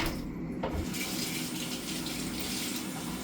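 Tap water runs steadily into a kitchen sink while potatoes are rinsed of starch during Christmas dinner preparation, a continuous close splashing hiss throughout.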